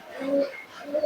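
A teddy pigeon kept at home gives a short, soft coo, a brief close throaty murmur rising and falling, with no talk over it.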